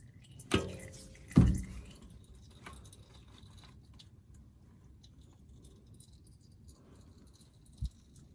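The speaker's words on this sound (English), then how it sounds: "we've got a bit of a drip happening" A few sharp drips of manual transmission fluid from a Porsche Boxster S 986 land at irregular intervals, separated by long quiet stretches, with a faint rattle near the start.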